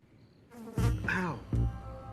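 In a horror film, a wasp buzzes close by in a few rising and falling droning bursts, loud against a near-silent background.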